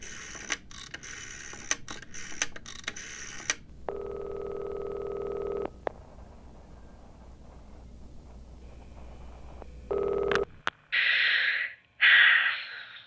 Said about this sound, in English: I picked up the phone and dialed the number.